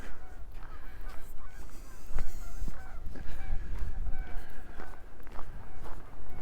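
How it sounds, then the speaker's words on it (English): Geese honk loudly and repeatedly nearby in the snow, overlapping calls in a noisy outdoor scene with some shuffling steps. "Random geese over there in the snow too."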